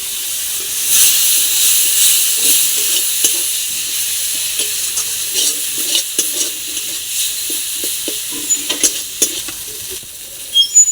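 A frying pan for fish egg curry with potatoes sizzles and hisses loudly as turmeric and water go in, then settles into softer sizzling with scattered stirring clicks and scrapes, no speech.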